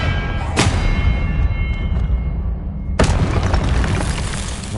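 Confringo blast spells in Hogwarts Legacy go off as two sharp booming explosions a couple of seconds apart, over a constant loud rumbling game backdrop.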